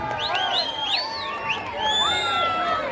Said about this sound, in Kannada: ಒಂದು ಜೋರದ ಚಪ್ಪಾಳೆ ಅವರಿಗೆ